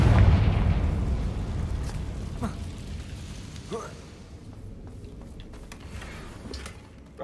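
A Confringo blasting spell goes off in a video game with a loud, deep boom that rolls into a fading rumble. Fainter crackles and thumps trail after it.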